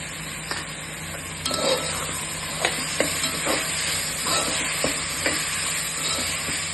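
Onions sautéing with curry leaves in a pan crackle in a steady close sizzle, broken by repeated clinks and scrapes of a spoon stirring, with no voices.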